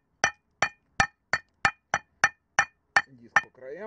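Steel hammer repeatedly striking the edges of a VW Tiguan brake disc: about ten sharp, ringing metallic clinks at a steady rhythm, close and loud, with a voice starting up at the end.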